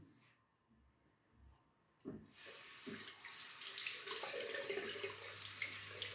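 Tap water runs into a bowl to soften shaving soap paste, starting after a couple of quiet seconds and continuing as a steady, close splashing stream.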